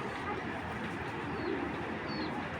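Old-breed pigeon, a male of the Giyasuli cheater type, cooing softly amid a steady broadband background hiss, with faint high chirps from other birds; no talking.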